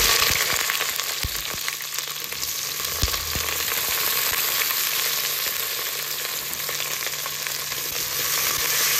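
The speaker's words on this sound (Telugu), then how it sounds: "ఇప్పుడు ఉల్లిపాయలు, పచ్చిమిరపకాయలు వేసేద్దాం" Sliced onions and green chillies sizzle steadily in hot oil for biryani, a loud continuous crackle and hiss that runs unbroken throughout with faint stirring clinks.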